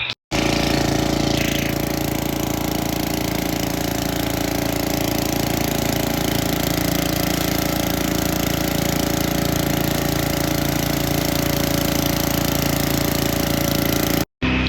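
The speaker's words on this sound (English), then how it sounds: "fixed one of our blowers. And so we now have a push blower." A push leaf blower runs with a steady, loud engine drone that holds constant and close from start to finish, with no talk over it.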